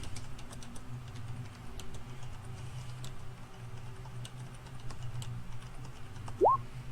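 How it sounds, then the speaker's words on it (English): Quiet, scattered clicks of typing on a computer keyboard tap along in irregular bursts over a low steady hum, with one short rising squeak near the end. "he's probably typing something to you"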